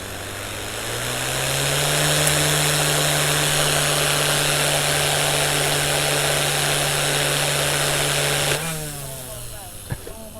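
A Goosky S2 Legend RC helicopter flies at its highest idle-up 2 setting, a close, loud, steady motor whine with a strong buzzing hum that rises slightly in pitch, holds, then abruptly drops near the end.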